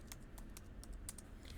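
Quick, light keystrokes on a computer keyboard, about a dozen taps spaced unevenly across a short stretch of coding work, close and fairly quiet over a steady low room hum, with no talk.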